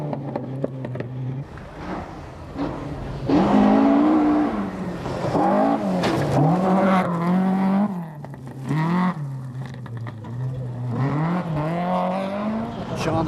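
A Ford Escort rally car battles along a stage at the 1999 Dogleap Rally, its engine rising and falling through repeated gear changes and revs, loud and close, with a commentator speaking over it.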